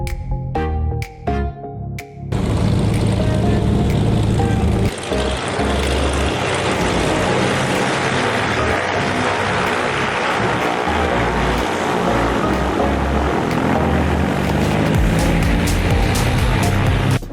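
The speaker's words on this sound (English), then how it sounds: "What a rare, strange-looking airplane, a 3-engine prop, Britten-Norman Trislander." A Britten-Norman Trislander three-engine propeller airplane runs up loud and close, a dense steady drone with a throbbing propeller rumble that holds strong throughout after a few brief clicks at the start.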